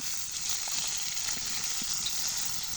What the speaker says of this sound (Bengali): আজকে আমার মাছ ভাজা হচ্ছে, এই যে বাটা মাছ এগুলো।